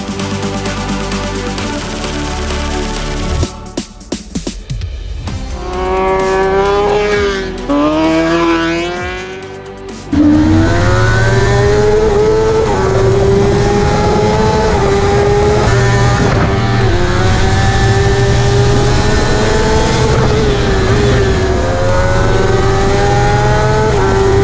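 A 2021 Kawasaki ZX10R engine revs loud and close while riding, pitch climbing and falling through gear changes, then holding a sustained high-rpm howl.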